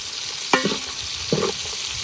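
Mutton liver pieces frying in oil at a farm, a continuous hiss of sizzling with two brief stirring knocks, close and steady.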